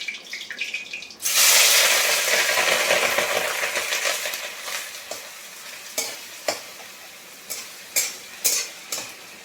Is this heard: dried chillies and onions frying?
yes